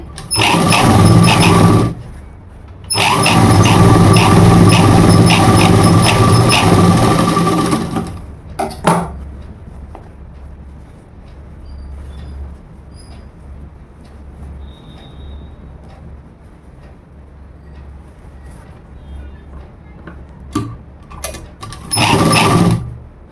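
Sewing machine running a double stitch on a blouse, two loud close bursts of fast mechanical clatter early on, a long quiet pause, then a few brief starts near the end.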